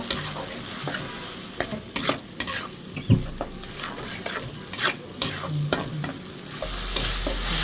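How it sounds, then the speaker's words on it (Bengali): Spice paste of garam masala, cumin, ginger and garlic frying in hot oil, a continuous sizzle broken by repeated scraping and stirring strokes from a spoon against the pan. "গরম মশলা জিরা বাটা আদা রসুন বাটা ভালো করে তেলে ভেজে নেব"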